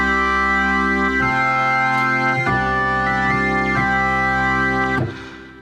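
A sustained organ-like chord from a Studiologic Sledge synthesizer emulating a Hammond organ holds and shifts through several changes, thick and steady with slight grit, then fades at the end.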